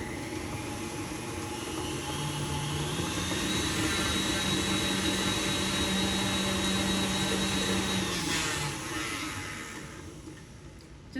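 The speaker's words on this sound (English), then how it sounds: "So using a stand mixer definitely gives you more power." Stand mixer beating chocolate chip cookie dough, a loud steady motor whine holding for about eight seconds, then winding down as the machine slows near the end.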